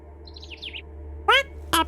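Cartoonish bird chirps from the video game OFF: a quick trilling run of high chirps, then two louder, brighter calls near the end, all over a steady low game hum.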